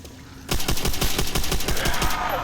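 Rapid automatic bursts of a ray gun in a Call of Duty game, a loud, evenly pulsed string of shots starting abruptly and continuing for about two seconds.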